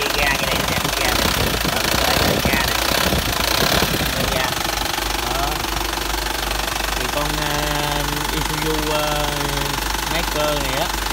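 A mechanical diesel engine in an Isuzu truck runs with a loud, steady, rough knocking clatter close by, while someone talks over it in the first few seconds.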